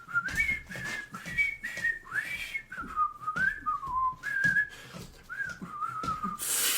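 A person whistles the Marseillaise, a clear, bright melody in phrased bursts of rising and falling notes, close and fairly loud, with short breaths between phrases and no talking.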